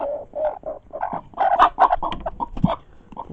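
Several chickens clucking close by in a farm flock, wanting to lay eggs, with a run of short, irregular clucks and squawks that grow louder and busier midway, no talk over them.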